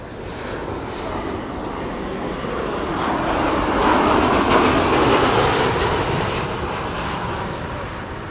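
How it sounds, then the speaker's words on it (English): A Transavia airliner landing at Amsterdam Schiphol, arriving from Nice: a steady broadband jet roar that swells to a peak midway and then eases slightly, heard alone with no voices. "Transavia flight 55"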